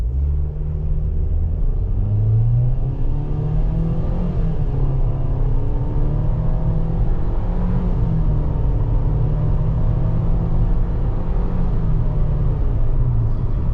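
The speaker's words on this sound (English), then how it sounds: "now we're going to do a takeoff, see how she goes" A 2023 Nissan Kicks SR pulls away from a standing start, its engine rumble and road noise droning loudly and steadily from inside the cabin as it slowly gathers speed.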